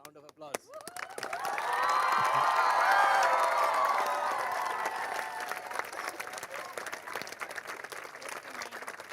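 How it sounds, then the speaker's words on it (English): Boys in a school audience at a high school annual day break into a round of applause with some cheering and whoops, swelling to a loud peak then tapering off gradually. "Boys, a round of applause"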